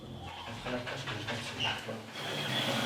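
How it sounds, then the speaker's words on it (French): Police dogs pant at the foot of an apartment building during a drug raid in Lyon, rapid breathy panting close by with voices talking over it. "Au pied de l'immeuble, les chiens entrent en action"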